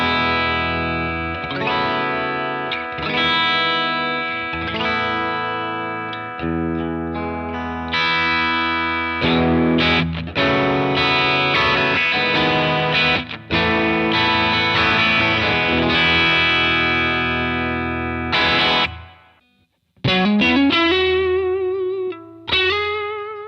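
Electric guitar played through a Browne Amplification Carbon X Dual Overdrive pedal with all controls near noon, giving a loud, steady run of driven chords and notes that breaks off briefly near the end before a sliding phrase.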